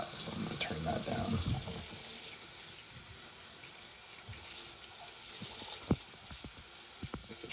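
Tap water runs onto the outside of a leather holster for a Desert Eagle pistol during wet forming, a steady hiss of flow for about two seconds, then softer trickles and a few small knocks close by.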